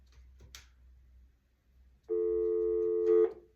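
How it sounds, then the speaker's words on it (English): Telephone line tone after a call has been cut off: a steady, loud electronic tone comes in abruptly after a faint click and holds for about a second before ending with a short click, with no talking. "I don't know if the phone went dead or what. It just cut off."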